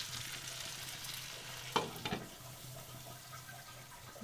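Fish frying in a covered pan makes a steady close sizzle throughout, with a couple of sharp clinks partway through.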